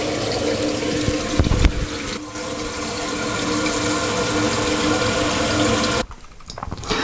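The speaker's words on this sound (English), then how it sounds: "turn the water back on to refill the tank" A repaired toilet tank refills with water after the supply is turned back on, a steady close hiss and rush that holds for several seconds before dropping off, with no voices.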